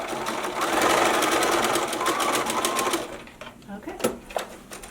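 A sewing machine stitches a back neckline facing for sewing pattern ME2112, running in a fast, even stitching rhythm for about three seconds. It then stops, and quieter handling sounds follow.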